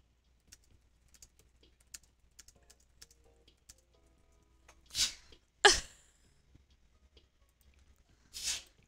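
A single sharp sneeze bursts out close by, preceded by a softer breathy build-up, against light keyboard and mouse clicking while someone plays Roblox for the first time.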